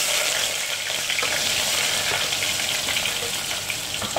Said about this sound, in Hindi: अब हम इसमें 2 मीडियम साइज कटी हुई प्याज ऐड कर देंगे।